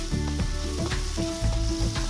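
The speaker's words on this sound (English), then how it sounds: "start stir frying it." Steady sizzling of chicken stir-frying in a hot pan for Thai basil chicken, with repeated scraping and tossing noises as it is stirred, close and fairly loud.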